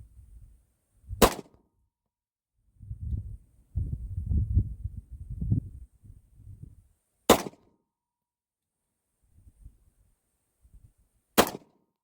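Three sharp, loud pistol shots from a 9mm handgun at a 15-yard target, spaced several seconds apart, with low rustling and handling noise in between.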